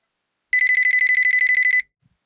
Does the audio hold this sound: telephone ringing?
yes